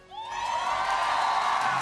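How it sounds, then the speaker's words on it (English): Houston fans in a crowd cheer and whoop during a Gladiators versus Outlaws match. The noise swells quickly from quiet into a sustained, fairly distant roar. "Where are the Houston fans at?"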